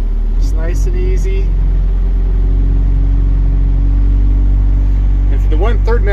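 A heavy machine's engine warming up in the cold at one-third throttle, a loud, steady, low rumbling drone with brief voice-like sounds near the start and end.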